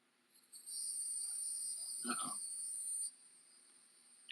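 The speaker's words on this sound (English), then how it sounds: "Those cicadas are out." A shrill, steady drone of summer cicadas rises after a moment and holds for a few seconds before cutting off abruptly; a brief muffled sound passes midway.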